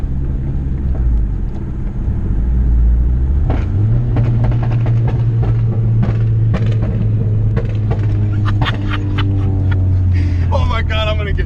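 A turbocharged Honda CR-V on stock motor mounts accelerating hard on the street, with a loud steady engine drone that rises in pitch, cabin rumble and road noise, and a whine near the end.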